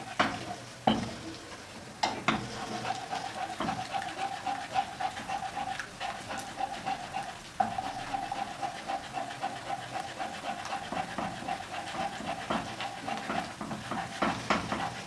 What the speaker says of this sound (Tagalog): Ika-caramelize ko lang siya ng konti.